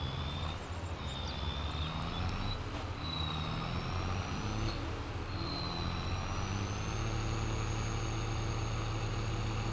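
A steady, droning straight-piped tractor engine in Farming Simulator 22, with a high whistling whine that rises and falls over the rumble, continuous and close, with no voices.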